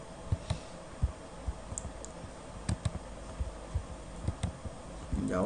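Typing on a computer keyboard produces soft, irregular key clicks close by, in scattered bursts against a quiet room hum.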